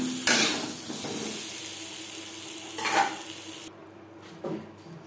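Lightly fried potatoes are stirred in oil in a pan: faint sizzling under a few scraping, clinking spatula strokes, quiet and close, with no voices.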